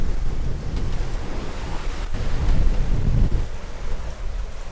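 Steady wind buffeting and choppy waves wash around a sailboat under way off the coast of Spain, a continuous rushing roar that swells slightly in the middle, with no talking.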